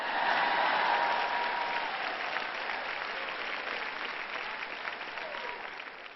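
An audience bursts into loud, dense applause that peaks at the start and then slowly thins and fades over several seconds, with no voices over it.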